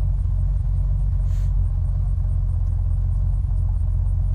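A small vehicle driving in the survival video game Unturned, a steady, close, low engine rumble that drones on without a break.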